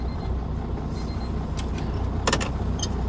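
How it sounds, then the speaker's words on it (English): Truck engine idling steadily just after starting, a low constant rumble with a few light clicks and rattles on top and no speech. "I'm going to start my truck."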